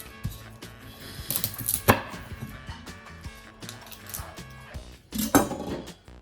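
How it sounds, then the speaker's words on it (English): Clinking and scraping of metal bowls with crunchy chewing as dogs eat dinner, irregular and busy, close by with no talking. "Those are my dogs eating their dinner."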